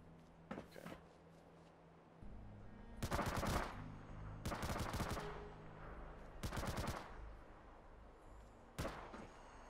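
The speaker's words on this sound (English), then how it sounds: "They're right there shooting." Gunfire in a zombie survival video game: several loud bursts of rapid shots at separate moments, close and sharp, with quieter gaps between them and no talk.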